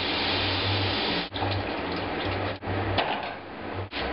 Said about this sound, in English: It's always good to wash the meat off.